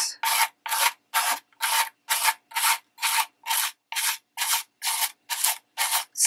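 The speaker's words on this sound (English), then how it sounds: "sand the edge, wait until it's dry." A paper edge is rubbed with a nail file or sandpaper in about fourteen even, rhythmic scraping strokes, close and crisp with brief silences between them.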